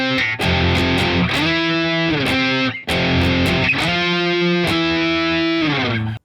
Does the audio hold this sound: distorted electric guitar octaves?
yes